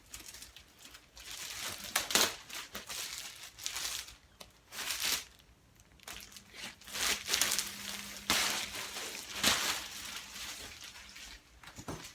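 Plastic bag being crinkled and handled indoors: quiet, irregular bursts of rustling and crackling with short gaps between them, and no talking.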